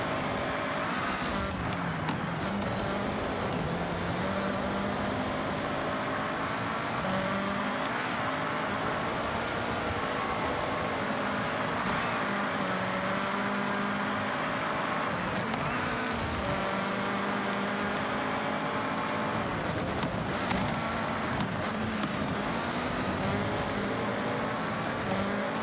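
Car engines roar steadily in a Forza Horizon 6 road race at a space centre, Fords and a Porsche running close together, a dense continuous drone with shifting pitch and no pauses throughout.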